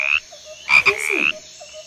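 A frog croaks in a short burst of several quick, loud, raspy pulses, close by and alone, with quiet background before and after.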